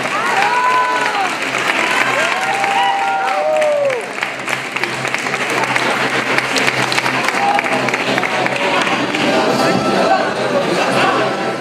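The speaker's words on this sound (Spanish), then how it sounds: "Fuerte el aplauso para Alfredo Palacios." An award ceremony audience claps steadily and loudly as an honoree is introduced, a dense, continuous applause with scattered voices and a few whistles or shouts rising over it.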